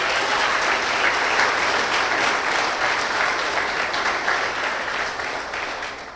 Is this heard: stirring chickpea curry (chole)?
no